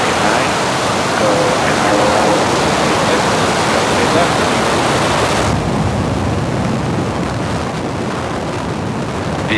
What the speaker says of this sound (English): Ignition. And liftoff and Falcon 9.